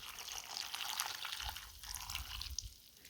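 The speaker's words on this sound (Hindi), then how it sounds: "अब इसमें पानी ऐड करना है" Water poured into a pot of soybeans with salt added for boiling: a steady splashing, trickling pour that varies in strength over a few seconds, fairly close.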